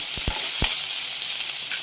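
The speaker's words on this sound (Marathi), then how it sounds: "एक बारीक चिरलेला कांदा घालायचा आहे." Finely chopped onion sizzles in hot oil with cumin seeds and chopped garlic, a steady bright hiss with a few soft knocks from stirring near the start, close and uninterrupted.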